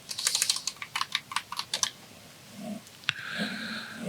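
Fingers tap out a short burst of keystrokes on a computer keyboard, quick and close, followed by a pause, one sharp click and some faint breathing.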